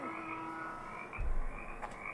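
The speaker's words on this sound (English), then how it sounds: "Where's a swamp? Why do I have frogs?" Frogs croaking in a swamp in the 2004 video game Nancy Drew: Curse of Blackmoor Manor, a steady low chorus of croaks under a tonal ambient hum, with one louder nearby croak swelling midway.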